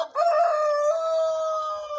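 A white Pekin bantam hen gives a single clear, drawn-out call that starts abruptly, holds a steady tone for about two seconds and then tapers, close by against a quiet background.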